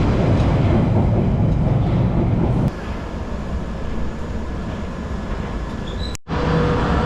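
A London Underground Piccadilly Line train near Heathrow gives a loud, close, steady rumble that drops to a lower drone partway through, with a faint high whine and a brief cut in the sound near the end.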